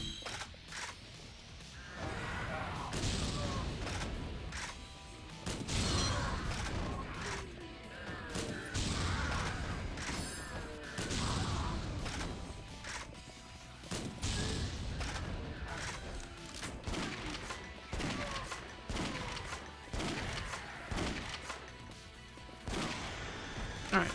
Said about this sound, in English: I'm gonna take out the grenade launcher.